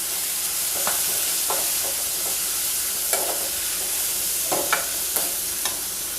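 Chopped beans and peas sauté in a pan, a steady sizzle with periodic spoon taps and stirring scrapes, close and continuous with no talking.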